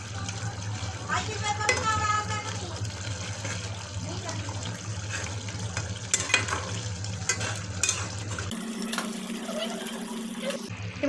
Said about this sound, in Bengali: দেখো এটা ফুটছে